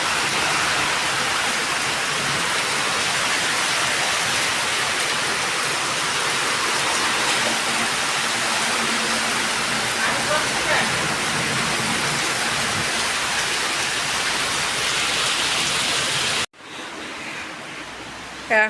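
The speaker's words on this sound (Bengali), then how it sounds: "খুব বৃষ্টি হচ্ছে।" Heavy rain pouring down during a storm in Jhenaidah, Bangladesh, a loud, unbroken roaring hiss that holds steady, then drops abruptly to a quieter, muffled patter near the end.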